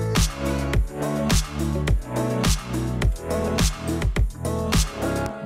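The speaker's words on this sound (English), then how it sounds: "From the same piano, copy all the bottom notes and put them onto a simple bass sound." EDM-style piano chords struck in a steady rhythmic pattern with a simple synth bass doubling the low notes, pumping and loud with no voices.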